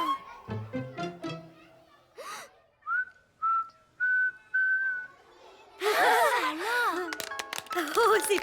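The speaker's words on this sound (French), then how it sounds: "Tu as appris à siffler." A child whistles in a cartoon classroom: a few clear, steady held notes, then a louder, wavering, warbling melody. Brief speech-like sounds come before the whistling.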